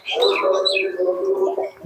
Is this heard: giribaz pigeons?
yes